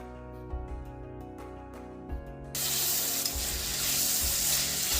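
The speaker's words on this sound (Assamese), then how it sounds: "এতিয়া আলু ভজাখিনি হ'বৰ হৈছে, ভজাখিনি নুমাই ল'ম।" Potatoes frying in a pan on a home stove, a steady broad sizzle that swells louder halfway through, with a few low knocks and clatters from cooking utensils, close by and with no talking.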